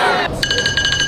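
An electronic alarm tone is played as music. It rings out in rapid, evenly pulsed high beeps, loud and close, right after a brief burst of mixed sound.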